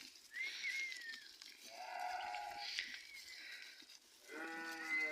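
A newborn lamb bleats several times, its high wavering cries close by, with faint background noise between calls.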